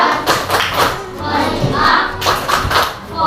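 Rhythmic classroom hand clapping in a fifth-grade class, a patterned "tepuk fokus" clap: repeated sharp claps in bursts from a group of pupils, fairly loud and close, with faint voices underneath.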